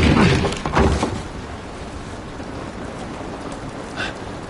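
Steady rain hisses in The Last of Us game, a broad wash of falling water with a few louder bursts and clatters at the start, continuous and moderately close.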